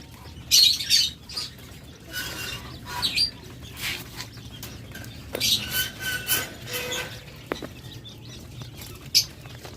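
Caged lovebirds make scattered high chirps and squawks, some close and loud, mixed with brief wing flutters and rustling over a low background hum.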